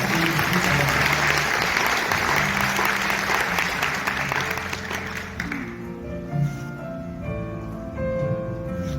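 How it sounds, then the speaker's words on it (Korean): Loud audience applause at an education policy forum at Hotel Geumosan, welcoming Gyeongbuk education superintendent Lim Jong-sik to the stage. The dense clapping fills the room, then thins and fades after about five seconds. "큰 박수로 맞이해 주시기 바랍니다."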